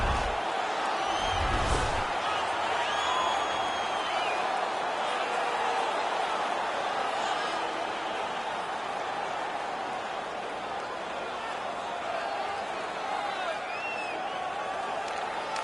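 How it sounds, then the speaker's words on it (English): Continuous roar of a home crowd in the NHL 17 ice hockey video game, loud and steady throughout with a brief thump early on, a dense wash of arena noise with no clear speech. "The home crowd is ecstatic."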